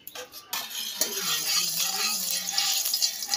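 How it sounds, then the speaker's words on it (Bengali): Boiled red lentils tipped into an oiled, unwashed new wok and stirred, with a steady bright hiss of oil and scraping utensil clinks close by, a sharper knock near the start. "এখনই ডালটাই দিব।"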